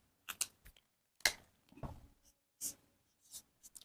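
A pen writes the fraction 1/5 on paper with a handful of short, soft, close scratching strokes separated by brief pauses.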